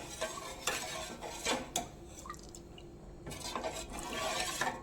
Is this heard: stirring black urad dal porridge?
yes